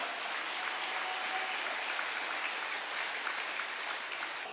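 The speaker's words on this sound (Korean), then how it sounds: "박수 부탁드리겠습니다." An audience at a pastor's testimony gathering gives soft, steady, fairly distant applause, an even patter of many hands throughout with no talk.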